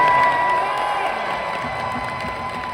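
Big audience at a Boondocks reunion panel at Dream Con applauding and cheering loudly, a steady wash of clapping and whoops that slowly tapers off.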